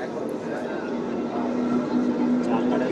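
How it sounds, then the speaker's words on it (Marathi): Steady rumble of a Mumbai local commuter train carriage in motion between Dadar and Churchgate, a continuous low drone with a faint tonal whine, heard from inside with muffled talk underneath. "राज ठाकरे अनेक वर्षानंतर लोकलनं प्रवास करतायत।"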